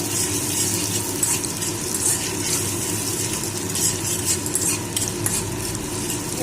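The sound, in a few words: onions frying and being stirred in pan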